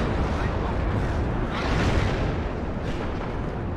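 Rocket artillery explodes in the Cold War strategy game WARNO, a dense, continuous rumbling barrage of overlapping blasts that swells around the middle and stays loud throughout, with no talk over it.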